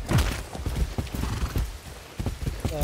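Horse hooves clip-clop in a steady close rhythm, with a loud neigh near the end; a voice speaks briefly amid the hoofbeats.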